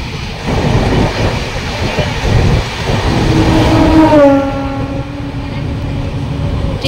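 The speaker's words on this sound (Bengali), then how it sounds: "বাবা আমাদের ট্রেন ছেড়ে দিয়েছে বাঁকুড়া থেকে।" A moving train pulls out of Bankura, its steady broadband rumble loud and close throughout, with a sustained tonal whine rising over it near the end.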